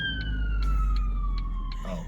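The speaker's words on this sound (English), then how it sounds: "Oh, it's an ambulance." An ambulance siren wails with a single steady, slowly falling tone, moderately distant over low traffic rumble and background noise.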